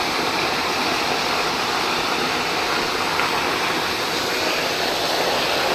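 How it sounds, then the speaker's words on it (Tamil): Water rushes steadily and loudly, like a strong flow pouring into a tank, continuous and unbroken, with no voices. "வருது மவுளி அடைச்சி வருது தண்ணி தாங்க"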